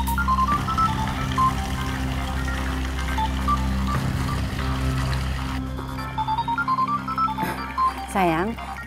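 A telephone ringing by a water play area, with a steady electronic tone pattern and a warbling ring later on, mixed over running water and background music, with people talking in the clip.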